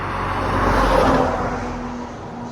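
Cars sweep past on a road during a Berwickshire charity truck run, one vehicle rising loud and close around the midpoint before fading away, with steady road noise underneath.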